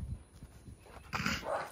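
A dog barks several times close by, short gruff barks in an uneven rhythm that grow louder toward the end, with no talking.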